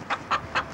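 A chicken gives three short, evenly spaced clucks, fairly close and distinct, with no voices over them.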